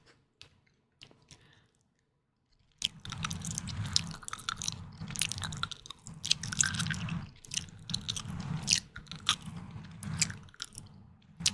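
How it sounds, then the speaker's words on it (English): Close-up ASMR chewing: after a quiet start, wet crunchy bites and mouth clicks continue steadily, very near and intimate, with occasional touches on the microphone. "So like I chew on the right and then I touch the microphone on the left."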